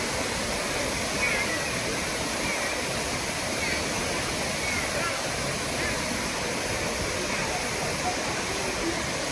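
Lakkam waterfall in Munnar roars continuously, a dense, steady rush of falling water heard close and loud throughout, with no pauses.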